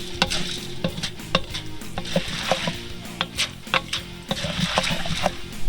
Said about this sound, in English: Corn oil is heating up. Popcorn kernels are heating up as well.